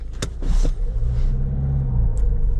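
A car engine that had trouble with fuel starvation cranks and catches, then settles into a loud, close, steady rumbling idle.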